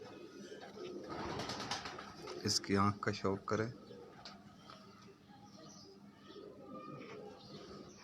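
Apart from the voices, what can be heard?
Firoza breeder pigeon cooing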